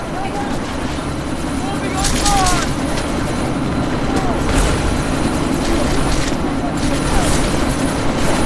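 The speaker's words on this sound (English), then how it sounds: "That chopper's about to take off!" Helicopter in the video game Deus Ex: Mankind Divided spinning up for takeoff, a steady loud rotor and engine roar filling the whole clip, with bursts of combat noise and voices in the background.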